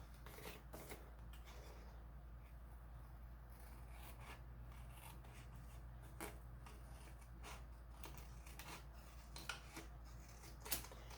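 Scissors trim card stock even with an envelope flap in a series of quiet, closely spaced snips and papery rasps over a low steady background hum.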